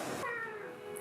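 A pet cat gives a single short meow, close by and fairly soft, over a quiet outdoor garden background.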